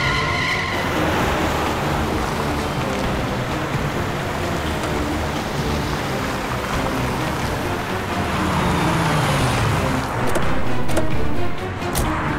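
Golden-colored car driving past in a chase scene, a loud, continuous rushing engine and road roar that swells near the end, with no talking.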